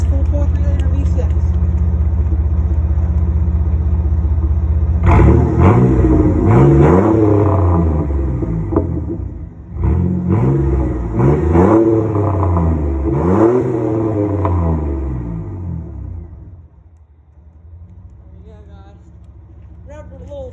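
Chevy Blazer ZR2 with a 4.3 liter V6 and Flowmaster Super 10 mufflers, a rumbling idle that bursts into several loud, deep revs, each climbing and falling, then settling back to a quieter idle.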